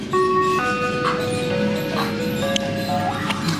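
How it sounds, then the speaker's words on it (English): Ice cream truck approaching on a street, its jingle of sustained electronic tones playing steadily and clearly over a low rumble, with faint clicks on top. "there's an ice cream truck coming"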